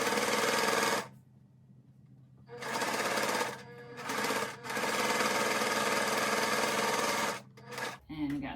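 A sewing machine stitches quilt fabric for a pinwheel lap quilt in loud, close bursts of rapid mechanical whirring, stopping and restarting several times with short pauses between runs.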